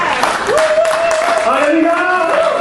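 Church congregation standing to acclaim the Lord, clapping and cheering together with sustained vocal shouts and a held high cry rising over steady crowd noise, loud and continuous throughout.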